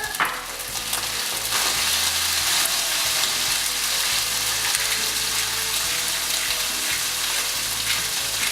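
Garlic with salt and pepper, added to beans, fries in a pan for a Thanksgiving dinner, making a loud, steady, continuous sizzle throughout with no talking.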